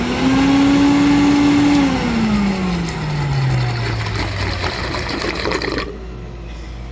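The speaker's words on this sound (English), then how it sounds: "as this unit winds down, especially when it doesn't have a hose, it makes a noise that reminds me of a toilet." Loud Thermax AF1 vacuum unit running without a hose winds down, its motor whine sliding steadily lower in pitch over a few seconds and then cutting off, leaving a quieter low hum.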